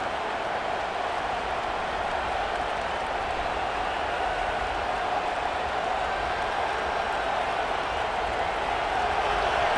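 A big stadium crowd in a Penn State versus Ohio State college football video game roars steadily as it urges the defense toward a red zone stop. The dense, constant cheering lasts the whole stretch with no break.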